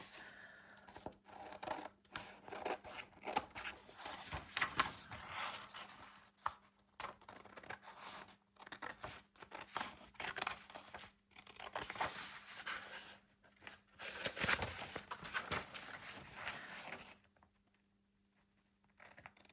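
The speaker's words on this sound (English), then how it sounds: "Let me just cut it out. Where are my scissors?" Rapid crisp snipping and rustling of paper being cut with scissors, close by and continuous for most of the stretch, then tapering off near the end.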